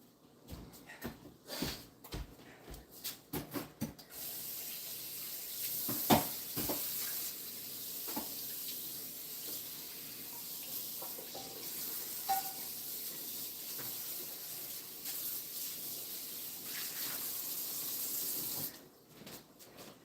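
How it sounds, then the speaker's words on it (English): Tap water runs steadily into a sink while a cast iron pan is rinsed, starting after a few knocks and clatters of the pan and then holding a constant hiss until it shuts off near the end. "Now let's rinse this and get it in the oven to dry."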